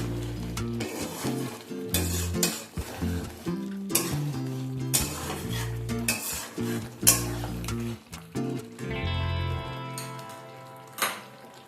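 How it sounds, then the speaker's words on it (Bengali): Chicken being stir-fried with spices in a pan: a steady sizzle broken by repeated scraping and clanking of a spoon against the vessel, rhythmic stirring bursts close up, without speech. "এবার মশলার সাথে চিকেনটাকে ভালোভাবে কষিয়ে নিতে হবে।"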